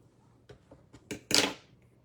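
Scissors snip through a floral fabric strip for a boho pumpkin rag rug: a few light, quiet clicks, then one louder, fuller shearing crunch near the end, close and alone.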